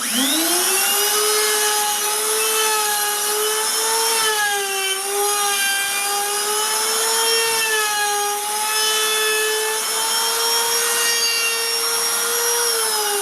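Wood router cutting grooves into a turned wooden vessel, guided by a clamped plywood fence: a steady, loud high-pitched whine with many harmonics that rises and dips slightly in pitch as the cutter bites, continuous and alone throughout.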